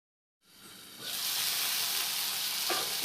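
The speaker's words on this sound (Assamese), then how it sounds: "এয়া আদা নহৰুখিনি ভাজি লোৱাৰ পিছত মই তাতে বিলাহী আৰু জলকীয়া দি নিমখ অকণমান দি ভাজিছোঁ" Tomatoes and green chillies with salt hit a hot pan after ginger and garlic have been fried, starting a loud, steady close sizzle that swells within a second and then holds.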